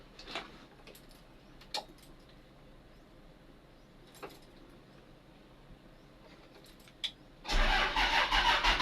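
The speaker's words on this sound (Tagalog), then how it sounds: "Ayan, oh, ayaw siya mag-andar, nagre-rondo lang." A vehicle engine cranks repeatedly but fails to start, giving faint, brief cranking bursts spaced a few seconds apart before a louder, sustained churning burst at the end, with no talking.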